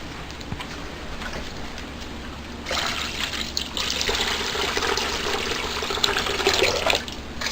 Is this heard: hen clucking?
no